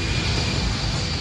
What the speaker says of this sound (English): The Boeing 777 leaves the tarmac of Kuala Lumpur Airport for the very last time